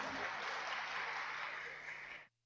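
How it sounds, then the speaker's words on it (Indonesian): An audience claps in a continuous, even burst at a university professorial inauguration ceremony, the applause holding steady and fairly close before stopping abruptly near the end, leaving near silence. "Jadi yang tepuk tangan itu dari Sengkang."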